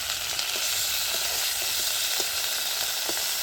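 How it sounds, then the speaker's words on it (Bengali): Nigella seeds sizzle steadily in hot oil for a bean fry, a dense, bright crackle with faint scattered pops, close and even throughout with no voices. "তো কালো জিরাটা আমি দিয়ে দিচ্ছি এইবারে।"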